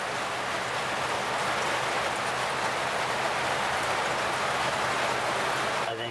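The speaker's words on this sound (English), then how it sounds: "you can hear the rain coming hard now, guys, pummeling the trailer" Dense, heavy rain drumming hard and constantly on a tiny house trailer roof overhead during a storm, a loud hissing wash with no pauses, ending abruptly.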